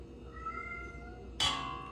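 A single short cat meow, fairly close, over a quiet room hum; a brief clatter or rustle follows right after.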